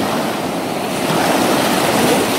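Beach waves roll and wash continuously while wind buffets the microphone, a dense steady roar of surf with no voices over it.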